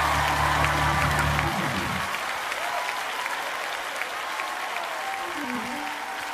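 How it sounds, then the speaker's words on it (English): A church congregation claps together in loud, sustained applause, with crowd noise and an amplified voice over music at the start before the clapping continues alone. "Come on, clap your hands."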